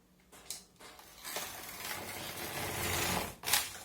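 A knitting machine carriage sweeps back and forth across the needle bed, knitting rows of a baby's summer sweater. It makes a loud, continuous mechanical rasp and clatter that swells across the passes and ends in a sharp rattle.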